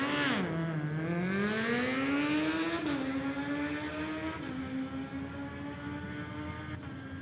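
A 2007 Kawasaki ZX14 motorcycle screams down a drag strip, its engine note climbing through rapid gear shifts, loud and sustained with no talk.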